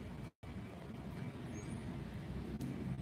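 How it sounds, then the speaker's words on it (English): Steady road traffic rolls past near the Gatlinburg strip on a Saturday morning, a continuous low rumble of passing vehicles with a brief dropout early on and no talk. "you can hear the traffic going by"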